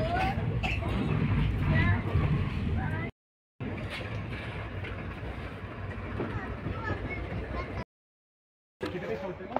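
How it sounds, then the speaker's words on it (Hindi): A passenger train pulls out of Ghaziabad Junction with a steady rumble and rattle of the cars, while people chatter around it and the sound drops out in two short gaps. "अभी यहाँ से ट्रेन खुल गई है"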